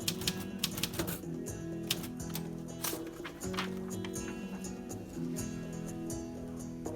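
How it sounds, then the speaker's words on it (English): Rapid key strikes on a typewriter come in quick uneven bursts, each a sharp mechanical clack over a faint ringing hum, with a short pause partway through. "Then you are able to proceed with typing."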